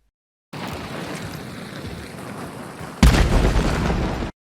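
In a video game, a barrel is shot and explodes with a sudden loud, broad blast that cuts in after a few seconds of steady rushing ambience and then rumbles on until the end.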